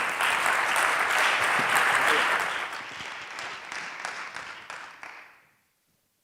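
A gala audience at a start-up challenge final claps in a dense burst of applause. It is loud at first, thins out over several seconds and stops into near silence.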